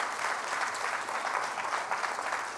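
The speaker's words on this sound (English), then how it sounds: "Come on, let's clap our hands" A church congregation claps their hands together in a steady, dense round of applause that fills the room evenly throughout.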